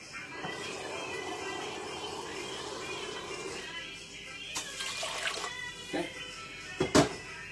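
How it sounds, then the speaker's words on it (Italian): Water pours steadily into a pot of minestrone for several seconds, then a few splashes and clinks follow, with a voice speaking briefly over it. "e iniziamo a aggiungere l'acqua."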